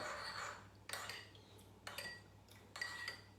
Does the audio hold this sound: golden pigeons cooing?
no